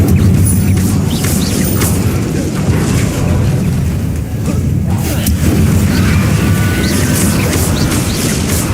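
The Incendio fire spell in the game Hogwarts Legacy erupts as loud, continuous blasts and rumbling booms, with crackling impacts layered over dense combat noise throughout.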